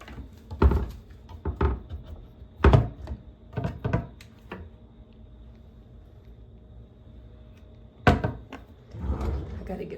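Pressed-wood doors on a 1990 bathroom vanity cabinet thump and knock as they are opened and shut, a few separate bursts with quiet gaps in between.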